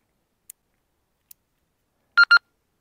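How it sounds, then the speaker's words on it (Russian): Out on a spring pike-fishing trip, a walkie-talkie radio goes off with two quick, clear electronic beeps in a row, preceded by a couple of faint ticks in otherwise near silence. "У меня что-то рация сработала"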